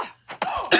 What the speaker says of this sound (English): Oh, but you're coughing right now.